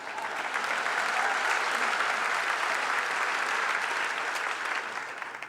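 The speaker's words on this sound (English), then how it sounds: "you can clap for that" A symposium audience breaks into continuous applause, a dense, even wash of clapping that holds steady for several seconds and eases slightly at the end.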